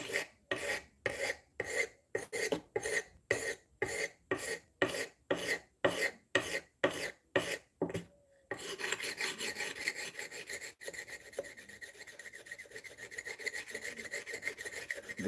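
Coarse-grit abrasive roughing up the edge of a handle by hand, about fourteen rhythmic rasping strokes in steady succession, followed by a continuous harsher scraping rub, close and clear with no talking.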